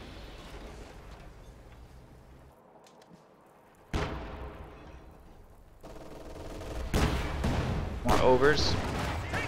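Machine gun fire with armor-piercing rounds in a World War II strategy video game, heard as bursts of gunfire and explosions that build to loud blasts near the end, mixed under a caster talking.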